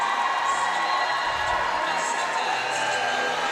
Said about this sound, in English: Crowds have been good and into it so far